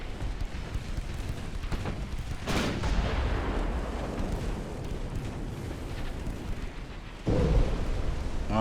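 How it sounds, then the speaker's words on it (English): Heavy 11-inch naval guns boom in the naval warfare game Ultimate Admiral: Dreadnoughts, a deep rumbling barrage with sharp blasts near the start and a loud crack near the end over a continuous roar of battle. "Nice hit with the 11-inch guns."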